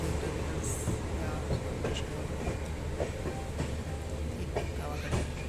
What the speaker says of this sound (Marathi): ट्रेनमध्ये गर्दी नाही आहे, ट्रेन तशी खालीच आहे.